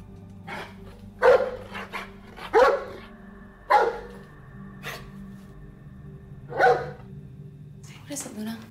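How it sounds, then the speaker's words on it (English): A dog barks indoors at night in several sharp, separate bursts spaced a second or two apart, loud and close, with quiet room noise between them. "All of a sudden, she started barking."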